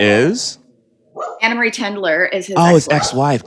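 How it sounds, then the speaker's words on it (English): A dog barks briefly in the background near the start while people keep talking over it in a podcast conversation. "Oh, sorry about the barking."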